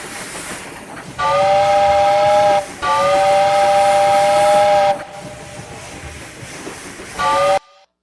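A steam train passes with its whistle sounding in three loud, sustained blasts, each a minute or so apart in rhythm, the middle one longest, over a steady background hiss and rumble of the locomotive.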